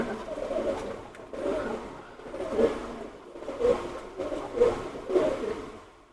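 Teddy pigeons give repeated close, throaty coos in a steady rhythm, roughly one call per second, with faint background noise and no talk.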